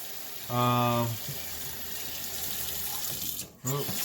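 Cold water running from a tap to rinse a freshly caught halibut, a steady splashing hiss throughout with a voice over it early and again at the end.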